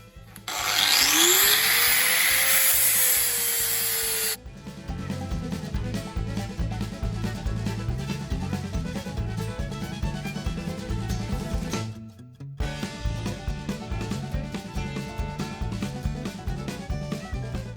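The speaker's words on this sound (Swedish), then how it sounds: "Det är finjusteringen tänker jag göra med vinkelslipen." An angle grinder fine-trims a rough jigsaw-cut wooden piece for a built-in pantry, with a loud high whine at first, then a sustained rasping, grinding drone that briefly drops out and resumes, close and steady.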